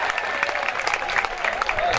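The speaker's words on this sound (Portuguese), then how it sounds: "Vamos aplaudir Yuri Conde Garcia, o vencedor do Grande Prêmio" Spectators at a show jumping Grand Prix applaud the winning rider, a steady, full wash of clapping from a sizeable crowd with a faint voice over it.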